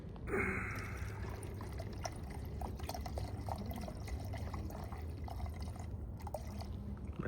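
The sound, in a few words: pouring urethane reducer into a mixing cup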